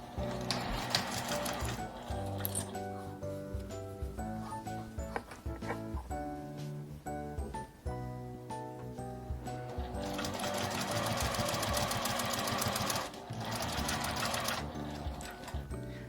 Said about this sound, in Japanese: さっき縫った縫い目の内側を縫います。